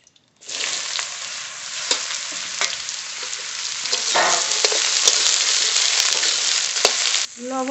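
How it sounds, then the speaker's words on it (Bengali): Sliced ridge gourd hits hot mustard oil with black cumin in a wok, bursting into a loud, steady sizzle that crackles with occasional spatters and stirring clinks, then cuts off near the end. "কেটে ধুয়ে রাখা ঝিঙে দিয়ে দেব কড়াইতে।"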